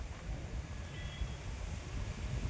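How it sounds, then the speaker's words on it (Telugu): Steady gusting wind from Cyclone Montha in Narsapuram roars across the microphone, a low rumbling buffet that continues without pause, with no voices. "వర్షం అనేది అంత రావట్లేదు కానీ గాలి అనేది చాలా విపరీతంగానే చేస్తుంది"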